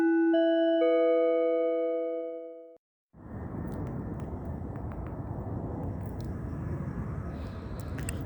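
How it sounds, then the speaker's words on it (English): An airplane flies overhead at night around 1 a.m., a steady broadband roar heard outdoors at moderate level after a brief chime-like tone fades out. "Plane activity immediately starts the moment I start recording right now."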